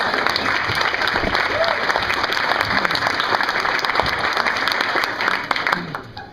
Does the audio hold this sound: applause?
yes